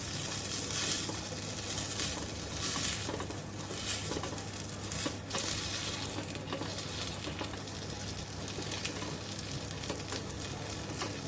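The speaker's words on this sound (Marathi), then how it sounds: "बघा किती छान शेकली जात आहे" Wheat flour paneer cheese bati roasting in a covered pan over low gas, a steady soft sizzle and crackle that runs evenly throughout, close and unbroken.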